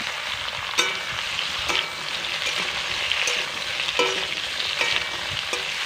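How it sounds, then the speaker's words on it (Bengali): Chopped ridge gourd fries in a pan with cumin and green chillies, a steady bright sizzle punctuated by rhythmic scrapes and knocks of a spatula stirring every second or so. "একটু নাড়াচাড়া করে নিলাম।"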